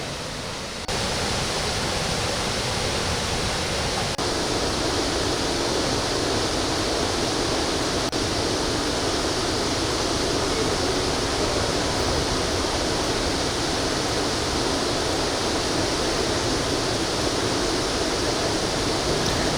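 A waterfall roars steadily and loudly throughout, a dense unbroken rush of falling water with no other sounds standing out.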